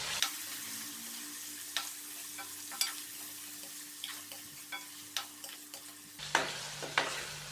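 Boiled beef frying with ginger garlic paste for tinda gosht, a steady sizzle under regular close scraping stirs of a spoon in the pan, with no voices.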